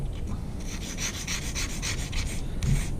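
Black opal ground by hand on a 240 grit whetstone, giving a steady, close rasping scrape in repeated strokes with no talk.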